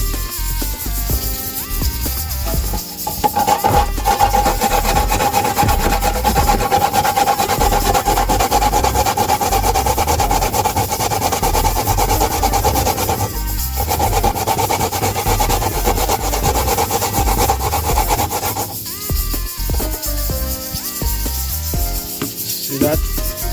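Continuous scraping and rasping of coconut being grated on a coconut grater for rice and peas, a steady rough rubbing that carries on loudly with only brief breaks.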